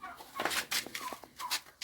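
Hens cluck softly around a nest by a coop door on a permaculture farm, giving a quick irregular run of short clucks and squawks, faint and close, with no talking.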